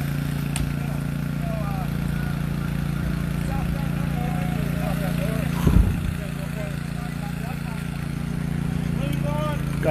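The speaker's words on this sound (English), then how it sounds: "the generator to be able to cut her out because this car has been damaged so severely" A generator powers rescue tools cutting open a severely damaged car, giving a constant mid-pitched engine drone at moderate distance with a brief thump partway through. Voices and a chirping sound come and go faintly in the background.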